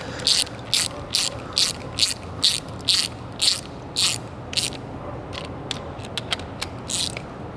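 Repeated ratchet strokes snug the bolts of a gasketed Holley Premium mid-mount accessory system on an IROC-Z engine, a steady close series of crisp clicking bursts, evenly spaced at first, then quicker and lighter, with no voices.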